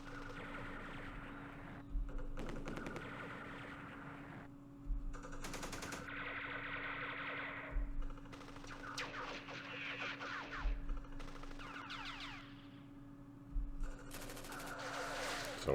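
Opportunity-fire gunshots in the wargame Campaign Series Vietnam, Battle of Hue: several short bursts of small-arms fire recur at intervals of a few seconds, separated by quieter game effects over a steady background hum.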